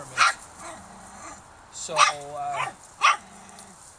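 Four-week-old Norwegian Elkhound puppies give a few short, high yips and a whimpering whine, close by, in separate bursts a second or so apart, while a person speaks briefly.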